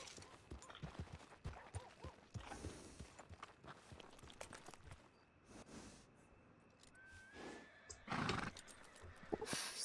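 A large horse in Red Dead Redemption 2 snorts and shifts with soft hoof steps, and a whinny rises near the end, moderately close under ambient outdoor game sound.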